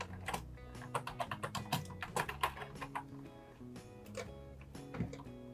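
Typing on a computer keyboard while entering a name and details into an ancestry records search, a quick run of close, crisp key clicks in uneven bursts with short pauses, no talking.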